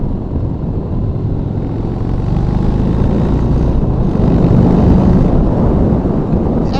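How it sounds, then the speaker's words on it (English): An ARCH KRGT-1 motorcycle with an S&S V-twin engine throbs steadily from its exhaust, a loud continuous low rumble mixed with wind buffeting while riding, with no voices. "just the bike throbbing, the noise from the exhaust"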